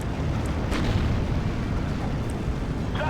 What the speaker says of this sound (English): all this artillery that we have coming in though is gonna push him back